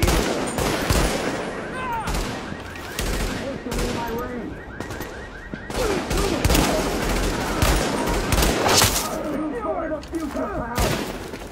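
Rapid gunfire in a combat video game, dense machine-gun bursts and shots rattling almost continuously and loudly, with voices talking over the fighting.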